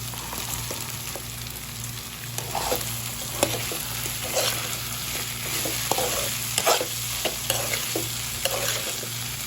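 Fried cauliflower for restaurant-style gobi manchurian is tossed into a pan with curry leaves and stirred, producing a loud steady sizzle with repeated scraping, clattering stirring strokes throughout.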